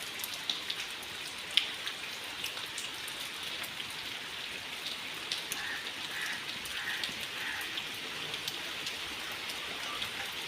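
Heavy rain pours down in a village, a loud continuous hiss of drops hitting surfaces nearby, dotted with sharper drips and splashes, no talking.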